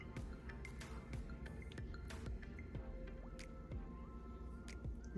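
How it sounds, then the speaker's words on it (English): Meat sauce drizzled from a spoon between ricotta and spinach stuffed shells in a baking dish: soft, faint wet drips and squishy plops scattered over a few seconds, with no talking. "Now I'm going to take just a little sauce the regular sauce and pour in between."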